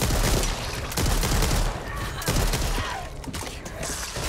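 Gunfire in the zombie shooter Back 4 Blood: loud, dense bursts of rapid shots in repeated volleys, with brief dips between them and faint voices underneath.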